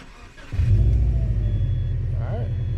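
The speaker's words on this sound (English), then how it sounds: "Car started." A 2008-2014 Subaru WRX engine cranks and catches after its alternator is replaced on a winter day, the start surging into a close, steady idle rumble with a voice faintly over it.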